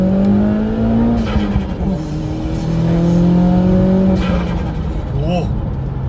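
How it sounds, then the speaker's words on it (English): Fully built Opel Astra 1.6 GTC engine with aftermarket cams, running and revving in rising and falling pitch sweeps, loud and close, with a person talking over it. "I started the car and was like, bop, bop, bop, bop."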